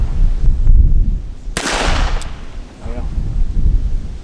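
A single sharp, loud report from a Ruger Security Six revolver fired outdoors over a steady low wind rumble, followed by a brief spoken word.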